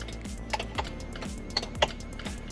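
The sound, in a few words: car window switch relays clicking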